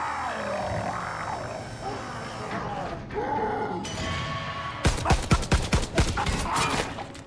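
A rapid burst of about six or seven sharp, loud gunshots rings out in a zombies video game, following a stretch of busy in-game ambience.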